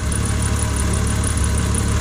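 A BMW E28 engine idles with an exhaust leak, a steady close mid-pitched rumble with a faint rhythmic pulsing and high whine, running evenly for two seconds with no talking.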